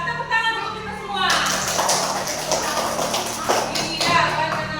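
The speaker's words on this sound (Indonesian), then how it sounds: "Ya, tepuk tangan untuk kita semua" Schoolchildren in a classroom clap together in a burst of rapid, uneven handclaps that starts about a second in and carries on fairly loud to the end, with a teacher's voice speaking at the start.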